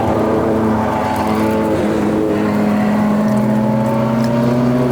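A Ferrari 288 GTO homologation special drives along, its engine holding a loud, steady, close-up drone with clear rising harmonics and a slight pitch shift partway through, and no talk.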